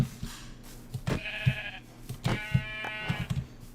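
A video game sheep bleats loudly twice, each a wavering nasal cry, amid soft intermittent tapping and thumps.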